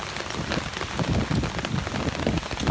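Heavy rain pours onto a Hong Kong street as Typhoon Mangkhut passes, a dense, loud, continuous hiss of drops striking hard surfaces nearby, with no voices.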